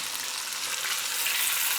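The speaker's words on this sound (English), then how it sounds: "Let it start boiling just a tiny bit, and then turn it down and let it simmer" Beef sauce in a pot coming up to a simmer, a steady close hiss and sizzle with no talking.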